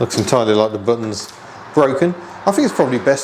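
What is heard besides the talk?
None of the usual background noises is heard.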